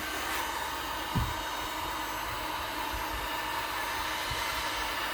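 A heat gun blows hot air onto tape to loosen its glue, a constant close airy roar with a few low knocks and handling bumps.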